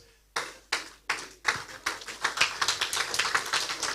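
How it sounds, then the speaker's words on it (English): Applause for a speaker at a Nigerian leadership lecture starts as a few sharp separate claps, then builds quickly into faster, denser clapping as more hands join, fairly close and with no talking. "start by standing up and giving him a round of applause"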